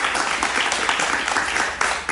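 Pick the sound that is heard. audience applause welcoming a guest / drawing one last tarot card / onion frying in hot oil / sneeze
audience applause welcoming a guest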